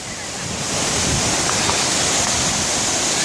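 Water pours steadily down Battle Creek Falls, a tall waterfall swollen by snowmelt on a trail near Pleasant Grove, Utah, making a continuous loud broadband roar with some wind buffeting the microphone and no talk.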